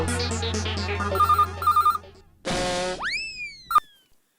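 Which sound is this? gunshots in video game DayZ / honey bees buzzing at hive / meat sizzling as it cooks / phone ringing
phone ringing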